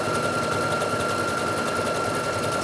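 A sewing machine runs steadily, stitching stretch stitches along the seam of a tank top with a continuous, even mechanical hum and a high whine throughout.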